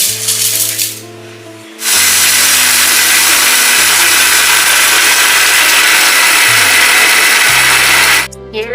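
A kitchen mixer grinder jar whirs loudly as it grinds cooled roasted green gram lentils with cardamom into powder for laddu, running in two bursts with a brief pause between, music playing underneath and no talk.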